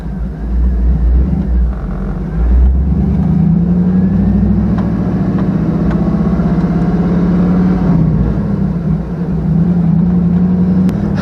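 An LS-swapped GMC Sonoma truck drives around town, and its exhaust gives a loud, deep rumble from inside the cab that rises and falls as the engine pulls through gears.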